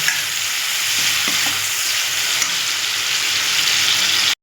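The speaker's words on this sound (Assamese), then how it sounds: "বিলাহীখিনি ধুনীয়াকৈ ভাজি লম" Tomatoes fry in a pan with a steady, close sizzle and occasional stirring scrapes, continuous throughout before cutting off abruptly.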